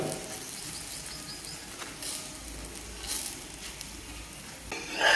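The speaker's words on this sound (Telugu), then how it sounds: "పెనం పైన కొద్దిగా నెయ్యి వేసుకొని మనం రెడీ చేసుకున్న బొబ్బట్లు వేసుకొని" Bobbatlu fry in ghee on a griddle, giving a steady, soft sizzle with faint crackles and a few scraping touches, a brighter hiss swelling near the end.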